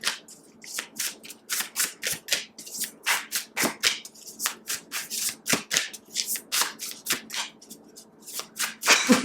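Tarot cards shuffled by hand, close and clear, in a quick run of crisp riffling bursts that repeat in an uneven rhythm with no one talking.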